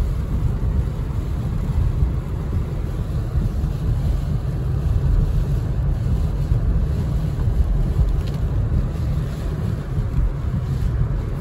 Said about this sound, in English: Raining like a champ.